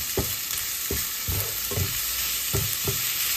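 Tomatoes sautéing in a pan for pinakbet with squash, giving a steady sizzle broken by a handful of distinct scraping stirs about every half second to second, close and fairly loud with no voices.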